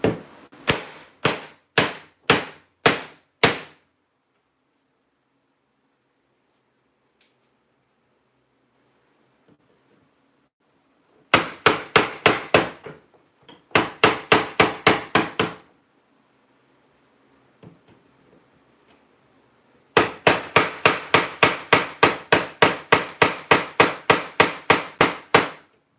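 A hammer strikes a flat surface during kitchen demolition in loud, sharp, rapid bursts of blows, with quiet gaps between the bursts and a long fast flurry at the end.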